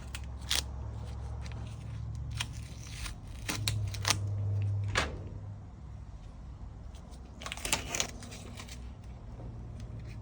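Protective film is peeled off the repaired lid glass of a Whirlpool/Maytag washer, giving soft, intermittent crinkling and crackling snaps close by. It stays quiet against a low hum, with a denser burst of crackles near the end.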